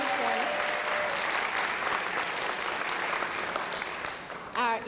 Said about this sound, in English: Yes, give her a round of applause, thank you.